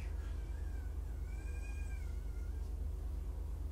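A kitten gives one drawn-out meow, close by, over a steady low hum in a quiet room, with no talking.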